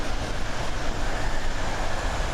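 Regio local train in the Train Sim World 2 simulator on the Köln-Aachen high-speed line, a steady loud broadband rumble of rolling wheels and rail noise sustained throughout, with no talk.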